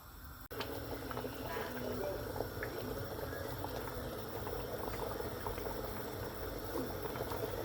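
Thick saag made with lassi bubbles and blips steadily in a pot at a low simmer, a close, continuous gurgle with no break.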